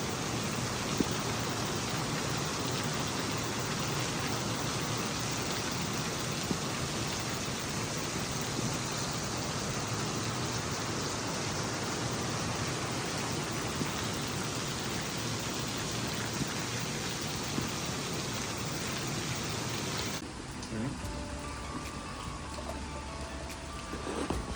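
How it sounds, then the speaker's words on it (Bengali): Heavy rain pours down in Phuket as a steady, dense hiss for about twenty seconds, then drops to a quieter patter. "লিটারালি কিছু দেখা যাইতেছে না বৃষ্টির জন্য।"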